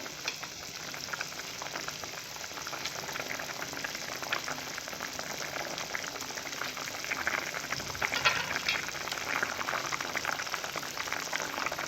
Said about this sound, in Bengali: ফুটন্ত অবস্থা মাছগুলো দেবো